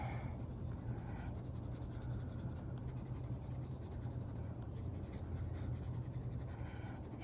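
Mondo Llama colored pencil scratching across thick paper, a soft continuous scraping with brief pauses between strokes, close and quiet, no voices.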